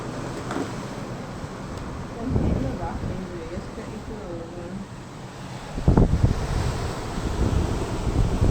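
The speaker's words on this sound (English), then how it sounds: "get these waves hitting the side of the" Sea waves surge and splash against a volcanic rock breakwater at Puerto de la Cruz, Tenerife, in two heavier bursts, with steady wind buffeting the microphone throughout.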